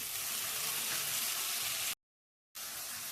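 Chopped onion and tomato with salt fry in a pan for a Kannada-style brinjal curry, giving a steady, close hiss of sizzling that cuts out for a moment and then resumes.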